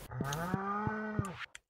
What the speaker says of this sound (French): Le son des vaches.